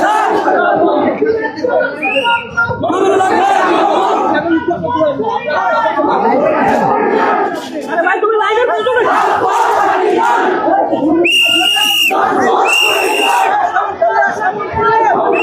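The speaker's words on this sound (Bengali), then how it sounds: "মামুনুল হক এই মুহূর্তে কিন্তু হেঁটে যাচ্ছেন এবং স্লোগান দিচ্ছেন" A large crowd marches with Maulana Mamunul Haque after his release, chanting slogans loudly and continuously in a dense, rhythmic roar, with brief shrill whistle-like tones cutting through near the end.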